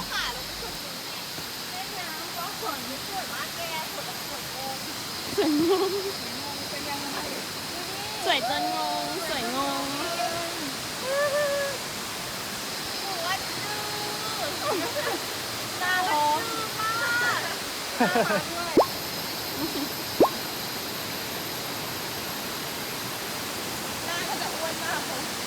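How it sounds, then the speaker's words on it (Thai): Harasa waterfall in Betong, Yala, Thailand: a steady, broad rush of falling water fills the scene throughout, with people talking intermittently over it. "เราก็เข้ามาถึง น้ำตกฮาราสะแล้ว"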